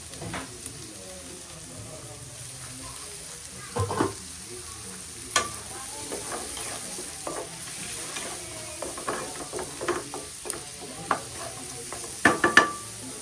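Leftover fried pork frying in a little cooking oil with chili for pork sisig, a steady close sizzle broken by sharp clinks and scrapes of a utensil stirring against the pan.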